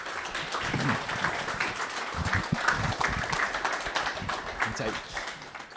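An audience at an evening talk applauds its speakers, with steady, moderately loud clapping throughout and voices mixed into the sound.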